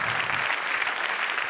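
Brief, continuous applause from a conference audience thanking a Nespresso speaker, an even wash of clapping with no pauses.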